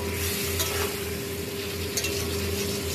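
Chili and cumin powder are sautéed in a pan as the base for a bhetki fish curry with potato and eggplant, giving a constant close sizzle broken by a few soft stirring scrapes.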